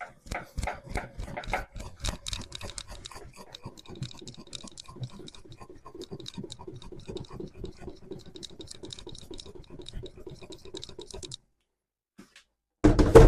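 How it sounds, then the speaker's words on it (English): A plastic lager kit bottle of wort shaken hard to oxygenate it, giving a dense run of close, rapid sloshing and rattling knocks for about eleven seconds before a short pause. "Give this a good old shake to oxygenate the wort before I take the cap off and add the yeast."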